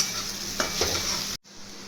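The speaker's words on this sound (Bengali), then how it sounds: "দিয়ে পেঁয়াজের সঙ্গে ভালো করে মিশিয়ে ভাজবো।" Vegetables sizzle and hiss steadily with onions in a hot pan over high flame, with a couple of soft stirring scrapes before the sound cuts off abruptly.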